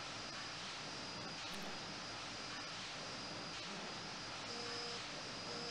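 A ship's engine turns over on compressed air in a virtual engine room simulator, a steady, faint whooshing roar with a constant high whine running throughout and no talk.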